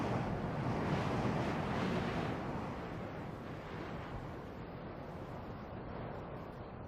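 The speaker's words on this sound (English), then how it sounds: "The spell of silence is broken by air that sweeps down from the Andes." Desert wind sweeping down from the Andes across the Atacama Desert, a broad steady roar of rushing air, strongest at first and then easing slightly while remaining constant, with no voices.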